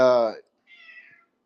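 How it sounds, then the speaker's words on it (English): A house cat meows loudly and close, one strong harmonic meow followed by a shorter, thinner one after a brief pause, alone without talk. "Sorry, you hear my cat."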